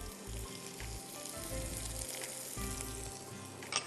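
Ginger piece frying in hot oil while making sambhar, a steady close sizzle running throughout with low rhythmic thumps underneath and a brief louder clatter at the very end.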